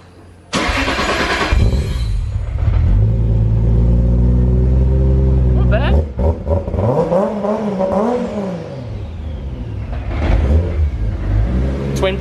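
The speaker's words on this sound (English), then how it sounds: "give you guys a 2J startup video" A Toyota Supra's 2JZ engine cranks and fires with a loud burst, then settles into a deep, steady idle, with a few blips of revving near the end.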